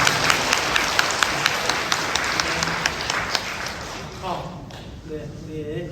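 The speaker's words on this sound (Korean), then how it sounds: "크게 박수 보냅니다." An audience in a Catholic parish hall applauds a priest after an Advent lecture, producing a dense wash of clapping that fades out over several seconds before a voice speaks.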